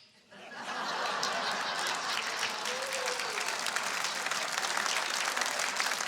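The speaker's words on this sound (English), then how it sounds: "Older people applauding" A comedy club audience at a stand-up set bursts into applause after a punchline about a car clutch, sustained clapping mixed with scattered chuckles and a brief murmur of voices.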